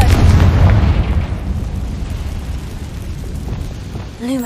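A Confringo blasting spell explosion in Hogwarts Legacy, a loud heavy boom right at the start that rolls off into a long rumbling decay, with a short magical whoosh at the very end.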